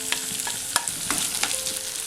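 Onion, ginger-garlic and green chilli are sautéed in a pan, a steady close sizzle punctuated by several quick scraping stirs of a spoon across the pan in an uneven rhythm.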